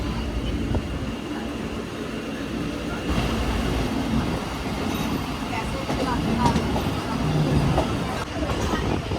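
Pak Business Express train rolling through Lahore Cantt railway station, a steady rumbling rush of wheels and carriage noise heard from inside the coach, with faint rhythmic clatter and a voice talking over it.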